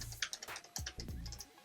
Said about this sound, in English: it makes you type really fast, and the clicky sound isn't too loud